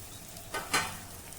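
Fried eggplant pieces are tipped into a pan of sizzling ground spice paste, giving two quick, soft bursts of hiss and scraping over a faint background sizzle.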